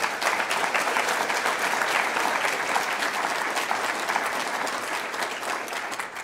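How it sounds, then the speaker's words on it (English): A summit audience claps steadily in a large hall, dense sustained applause at even loudness throughout, fading slightly toward the end. "that certainly deserves a round of applause"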